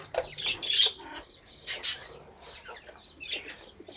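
Clear-wing budgie chick out of its nest box in a home aviary cage, giving several short, bright chirps and squeaky calls in quick bursts, close by and fairly faint, with no talk over them.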